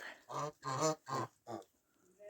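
Geese on a snowy farm in western Ukraine honk in a run of four loud nasal calls, near and evenly spaced, followed by a faint trailing call.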